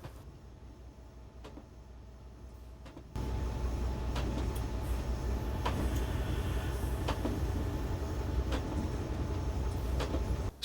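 Freight train carrying alumina to an aluminium smelter runs along a railway line, a steady rumbling roar with rhythmic clicks from the rails that swells louder after a few seconds and holds.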